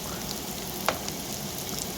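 Pork fat frying in a pan as a base for cabbage soup, giving a steady close sizzle throughout with no one speaking.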